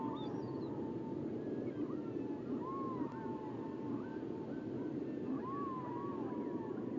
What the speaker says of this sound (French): C'est des chants de baleines.